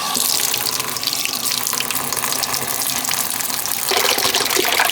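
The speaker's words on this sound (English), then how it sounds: "if you can hear me through the water running" Tap water gushes steadily into a sink while a tub of soapy water refills for washing a printed cross-stitch canvas, a loud continuous splashing rush that brightens near the end.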